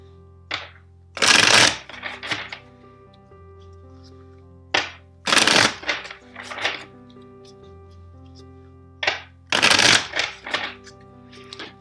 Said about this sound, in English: First, let's shuffle the deck four times for you.